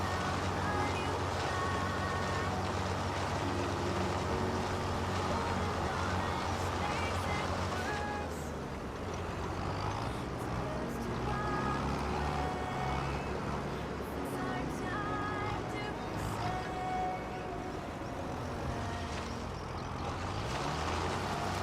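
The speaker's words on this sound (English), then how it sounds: "Looks like the mulcher hit a little bump there." A mulcher grinds crops in Farming Simulator 22, giving a loud, steady mechanical drone that runs without a break and eases slightly in level partway through.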